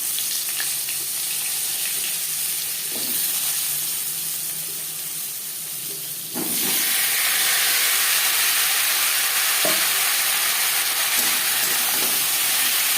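Steady hot-oil sizzle in a pan after a quick spice tempering, then a louder, fuller hiss surges as peeled, chopped potato pieces drop in and keep frying, close and continuous.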